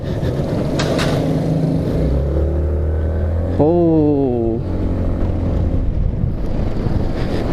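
An Ariic Gobi 250 adventure motorcycle is ridden, its engine droning steadily under loud wind rush, with one clear rising rev midway before settling back; no one speaks.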